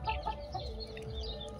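Free-range desi chickens on a poultry farm cluck softly and intermittently over a low rumbling background, with the birds close and a faint din of other fowl around them.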